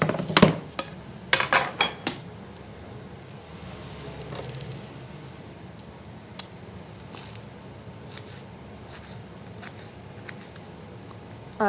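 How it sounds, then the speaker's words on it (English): Kale is chopped on a board for a chicken broccoli-cauliflower casserole in a home kitchen: a cluster of sharp knife cuts at first, then sparse, scattered clicks and taps over quiet room tone. "we can now do some kale chopping"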